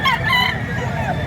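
A rooster crows loudly and close at a poultry market in Lipa, one brief call with other birds and faint voices around it.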